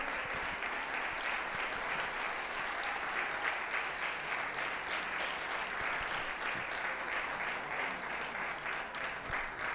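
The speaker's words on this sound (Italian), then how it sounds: "facciamo un altro applauso al maestro" Steady, dense applause from an audience at an Italian stage event greeting the maestro, continuous clapping at even loudness throughout with no talk.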